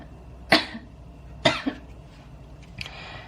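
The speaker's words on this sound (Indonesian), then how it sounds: "Batuk." Three sharp coughs, each short and separate with a pause between them, close to the mic in a quiet room.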